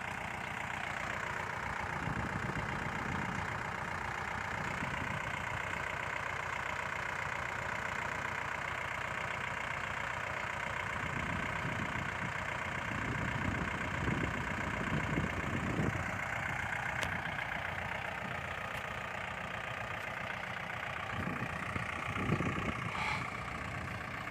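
Farm tractor engine idling, a steady continuous rumble running unbroken throughout, moderately near, with no voices.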